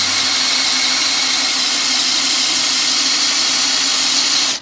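A power drill in first gear bores into wood with a FAMAG German auger bit, a loud, steady motor whine that holds constant, then cuts off abruptly at the end.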